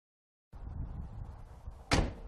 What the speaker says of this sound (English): That's the way I'd want the doors to shut on my Fox body.